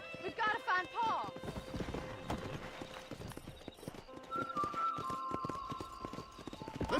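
Horse hooves clip-clopping at a steady gait while riding in the Red Dead Redemption western video game, with a whinny near the start, close and clear under occasional voices.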